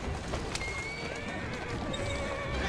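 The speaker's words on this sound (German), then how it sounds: "Das Pferd rastet auch voll aus." A horse in the video game Assassin's Creed Syndicate neighs and whinnies loudly and close, with galloping clip-clop hooves running underneath throughout, during a horse race.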